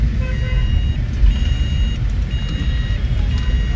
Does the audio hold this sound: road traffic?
yes